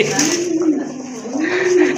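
A pigeon coos in a steady, drawn-out rising and falling call, close and fairly loud, with a voice faintly audible underneath.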